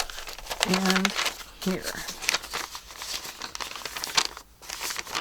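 Paper for a handmade bee-themed journal is folded by hand, producing crisp crinkling and rustling in short bursts close up, interrupted by a woman's brief speech.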